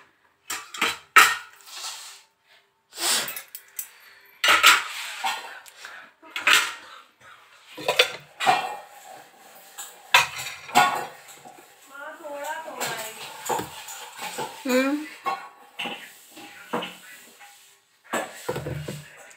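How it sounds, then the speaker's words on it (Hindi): Dishes, pots and cutlery clatter and clink in irregular bursts as a rack of kitchen utensils is emptied, with someone talking in between. "तो मुझे बर्तन खाली करना है"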